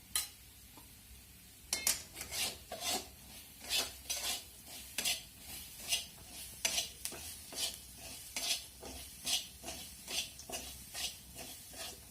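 A spoon stirs cluster bean curry with turmeric powder in a pan, repeated close scraping and clinking strokes in a fairly even rhythm over a quiet sizzle, after a short near-silent start.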